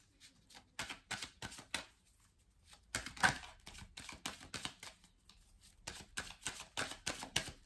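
Tarot cards being shuffled and drawn, with repeated close papery riffles and flicks in quick bursts and a brief pause in the middle, with no voice.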